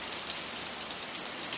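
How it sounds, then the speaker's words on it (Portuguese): Steady rain falls on a rural property in Saloá, Pernambuco, in the afternoon, a dense even patter and hiss with no pauses. "Começou a chover agora"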